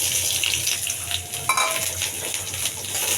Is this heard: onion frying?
yes